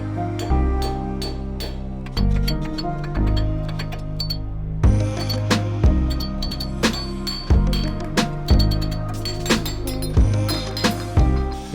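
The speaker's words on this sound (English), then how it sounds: "I start with a teeny little flathead, then move up to a larger flathead, then medium chisel, large chisel." Flathead screwdrivers, from tiny to large, then medium and large chisels, pry off the axle seal cap on a first-generation Toyota Sequoia during a lift install: repeated sharp metallic clinks and taps, close and fairly loud, in an irregular rhythm.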